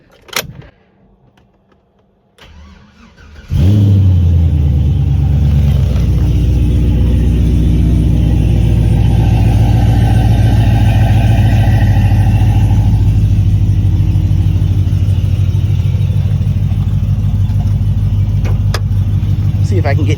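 A car engine cranks and catches after a few quiet seconds with faint jingling, then idles loud and close with a steady low rumble and an odd mechanical tone running through it.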